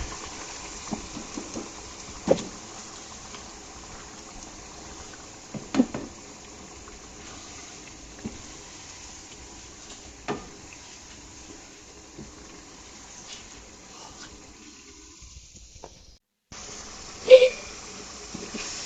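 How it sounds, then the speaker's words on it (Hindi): Two kilograms of minced keema frying in a pan over a cooked spice masala, a steady low sizzle and bubbling with occasional louder clatters and stirs, close and alone with no talk. "कीमा हमारा अच्छे से बुनाई हो रहा है"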